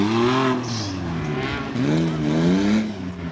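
An off-road car at an off-road event in Burgas is driven in reverse, its engine revving up and down in a few close, loud surges with no talk.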